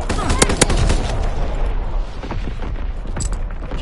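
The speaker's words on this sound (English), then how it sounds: "Firing primary battery." Warship primary gun battery firing in a video game, two sharp close booms early on, then rumbling blasts and a few more distant reports trailing off.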